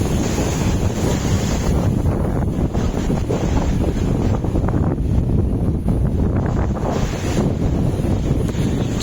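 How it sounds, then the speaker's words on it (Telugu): Ocean surf and strong sea wind at Pondicherry, a steady loud roar of breaking waves mixed with heavy wind buffeting the microphone throughout, with no voices. "చూడొచ్చు ఫ్రెండ్స్ మొత్తం సముద్రం"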